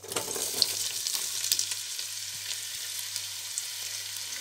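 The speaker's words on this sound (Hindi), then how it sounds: "इनको हम गोल्डन कर लेंगे।" Two medium onions frying in a pan until golden for chicken biryani, with a steady close hiss and soft crackle throughout and a faint low hum beneath, no voices.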